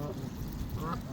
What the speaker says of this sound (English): So this is my goose friend Gibble,